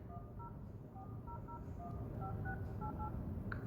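Telephone keypad dialing tones from a smartphone, a steady string of short paired beeps in an irregular rhythm, close and clear over a low background hum, with no talking.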